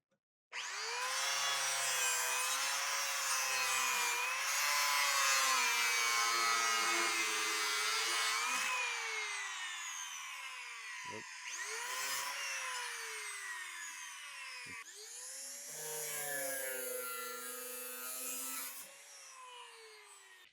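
Power saw cutting a middle steel bracket off a 4th-gen Toyota 4Runner frame during a bumper install, a loud continuous grinding whine that stops briefly twice, then resumes for a final steady cut.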